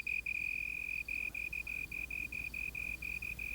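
A slender tree cricket calls in a steady, high, pure trill, sounding as a long run of evenly spaced pulses that goes on without a break over a quiet background.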